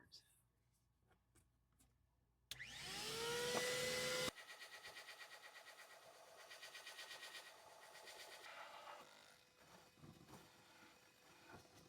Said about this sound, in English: I'm about to run the vacuum so I don't have a lot of sawdust that goes down here